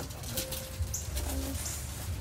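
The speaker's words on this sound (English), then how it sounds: "There's a bird chirping somewhere." Outdoors, a bird calls with soft cooing and brief thin chirps against a low steady background hum, faint and somewhat distant.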